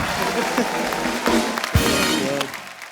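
Studio audience applause on a Hindi comedy talk show, dense clapping with music and voices mixed in underneath, fairly loud and fading slightly at the close.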